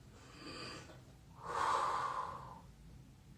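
A single deep inhale during a strength workout, a close airy breath drawn in after a softer exhale, quiet and unaccompanied by talk.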